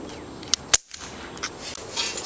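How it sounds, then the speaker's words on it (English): Air Mag CO2 airsoft pistol fired at a plastic Propel bottle, giving two sharp, close pops about a fifth of a second apart, then faint rustling and a couple of lighter clicks. "We're going to be shooting at this propel bottle with this brand new"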